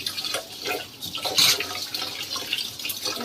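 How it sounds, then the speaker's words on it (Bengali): Lentils being rinsed in water while cooking in a kitchen make close splashing, dripping and sloshing sounds in short irregular bursts, moderately loud, with no talking. "ডালটা ধোয়া হচ্ছে।"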